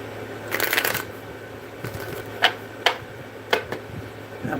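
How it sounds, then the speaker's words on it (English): A deck of cards riffled and shuffled up close, a longer burst followed by several quick sharp snaps and flicks, over a faint steady hum. "Let's go ahead and give it one more shuffle."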